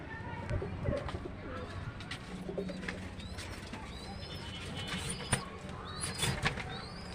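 Pet pigeons coo softly in low, throaty bursts, with faint chirps and creaks nearby and a person talking intermittently over them.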